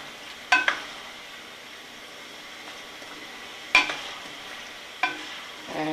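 A spoon stirs potatoes into a yogurt curry gravy frying in a pan, with a soft steady sizzle underneath and three sharp scraping clinks against the pot, close and alone without talk.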